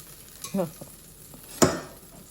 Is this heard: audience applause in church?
no